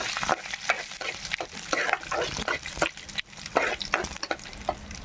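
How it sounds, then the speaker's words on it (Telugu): Curry leaves fry in a pan, a crackling sizzle broken by repeated scraping strokes of stirring at a close, moderate level. "కరేపాకు వేసుకుని చక్కగా ఫ్రై చేసుకుని"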